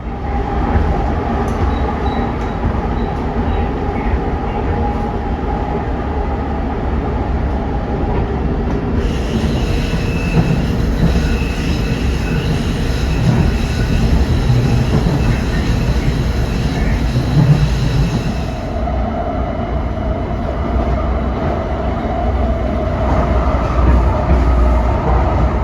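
A Red Line light rail train running between Illinois and Missouri in the St. Louis area rolls steadily along the track with continuous rumble, wheel noise and a high squeal partway through, loud and close throughout.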